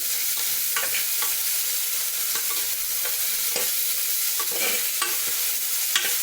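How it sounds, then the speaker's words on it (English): Masala frying with salt and methi leaves in a pan, a loud continuous sizzle broken by brisk scraping stirs every second or so, close up and without any voices. "you have to stir it until it's cooked for 1 minute"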